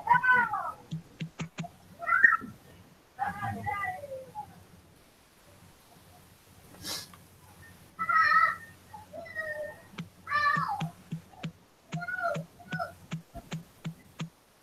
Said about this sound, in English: Oh, look at the kitty cat.